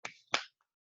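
Two crisp finger snaps close to the mic in quick succession, offered as applause, followed by silence.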